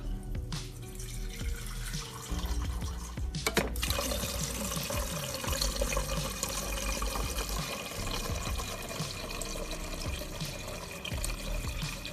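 A Kalorik two-speed hand blender mixer, model CMM 39732 BK, churns through water, making a steady rushing, splashing wash that runs continuously with no talk.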